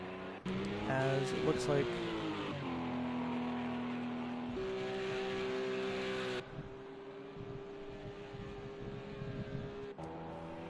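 Race cars lapping at the WEC Fuji motor race, a sustained engine drone with pitch shifts as gears change, under a commentator's talk throughout.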